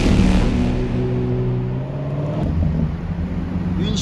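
A Lamborghini Murcielago Roadster on a Monaco street at night, a loud close engine drone with a steady low rumble and pitch shifts as it passes, no talking over it.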